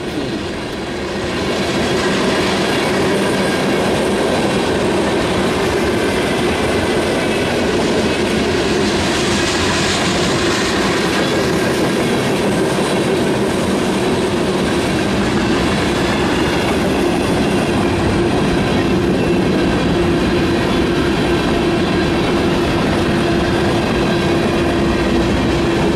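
A CP freight train with locomotives rumbles past close by in a continuous loud roar of rolling wheels and rattling cars, with rhythmic clatter and faint squeals over the whole span, and no talk.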